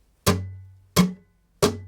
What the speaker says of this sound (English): we simply use these two fingers to do a down strike